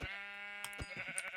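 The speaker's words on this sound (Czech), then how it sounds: "Tady je ovcí." A sheep in a video game lets out a long, steady, buzzy bleat, followed by a few shorter clicks and rustles, close and clear with no talking over it.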